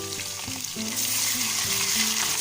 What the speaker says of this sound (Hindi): अब हम इसमें अदरक लहसुन और सब्ज मिर्चों का पेस्ट डाल देंगे